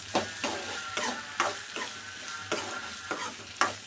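Okra sautéed in oil in a pan, with rhythmic spatula stirs and scrapes about every half second over a steady frying sizzle, close and clear.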